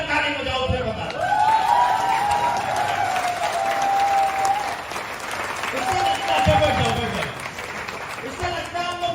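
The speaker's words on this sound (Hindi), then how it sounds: "एक बार खड़े होकर ताली बजाओ" A seminar audience stands and claps, dense loud applause with crowd noise swelling and easing, while someone talks over it in the foreground.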